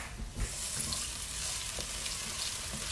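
Zucchini noodles fry in a hot pan with a steady, close hiss and crackle, broken by a brief stir or clatter near the start.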